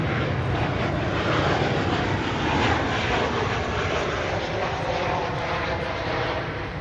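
An American Airlines passenger jet arriving on Flight 786 from Austin roars overhead at DFW, a loud, steady broadband engine rush that swells slightly midway and holds without pause.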